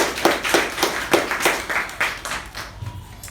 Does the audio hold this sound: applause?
yes